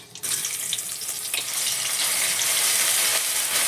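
Garlic dropped into hot oil with curry leaves for a Marathi peas and potato curry, a sudden loud hiss that swells into a continuous bright sizzle, close up and with no talking.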